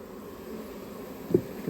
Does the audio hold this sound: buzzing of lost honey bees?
yes